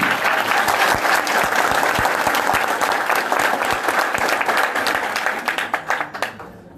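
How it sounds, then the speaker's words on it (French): Audience applause at a trade union general assembly rolls on loud and steady, then thins into scattered individual claps as it dies away at the end. "Donc, vous avez applaudi."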